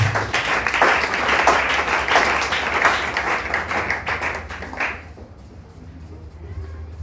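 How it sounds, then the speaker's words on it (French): A church congregation at a Sunday service bursts into applause, dense clapping from many hands that fills the room for about five seconds before stopping abruptly, leaving a quieter hall. "Acclamons pour le Seigneur."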